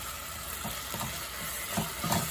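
Galangal and lemongrass go into a hot pan with spice paste of garlic, shallot and candlenut, sizzling steadily up close while a utensil scrapes and stirs in soft repeated strokes.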